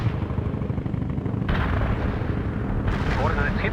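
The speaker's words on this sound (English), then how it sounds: "Launching a barrage." An artillery barrage in World in Conflict rolls in as heavy, continuous rumbling booms, swelling in two distinct surges, with voices speaking over the bombardment.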